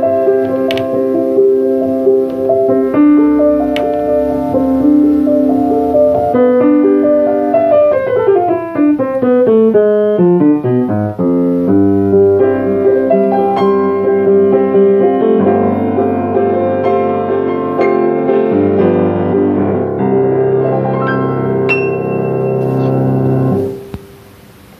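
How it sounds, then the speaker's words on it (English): Bosendorfer 170 grand piano, 5 ft 7 in long, played with the una corda pedal held down: a loud, continuous passage of sustained chords and runs sweeping down then back up, with no talking, ending in a fading final chord. "Here's the Bosendorfer."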